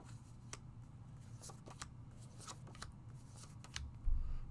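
Gift paper being handled and unfolded by hand, close and quiet crinkles and sharp rustles that come in irregular bursts over a low hum and build toward a louder crumple at the end.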